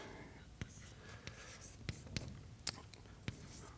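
Quiet scratching and tapping of chalk or pen writing out mathematical formulas by hand, with soft irregular strokes and occasional sharper taps, faint and close, with a hushed voice murmuring in the background.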